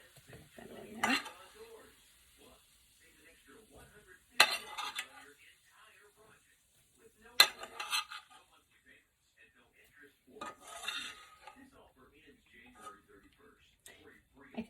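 Cooked mushrooms are scooped from a pan into a bowl, giving four separate bursts of utensil clatter and scraping against cookware with quiet gaps between them, while a voice speaks softly in between.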